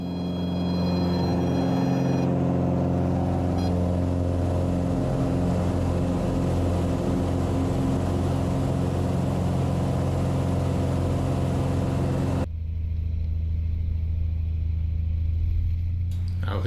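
A Cessna 182 single-engine airplane at takeoff power gives a loud, continuous propeller and engine drone close by, holding steady throughout, with a brief change in tone near the end.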